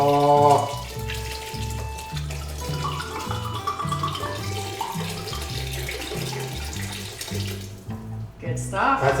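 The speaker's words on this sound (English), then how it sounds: "I'm gonna put in this nice big jug of wine" Wine glugging and splashing from a big jug into a stew pot of saffron-infused cioppino, a steady pour lasting several seconds, close and fairly loud, with some talk over it.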